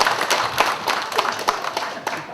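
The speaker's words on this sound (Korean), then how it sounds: "우리 집사님 위해서 박수 한번 쳐드립시다." A congregation at a church lecture gives a short round of applause, dense overlapping clapping from a crowd, fairly close and steady throughout.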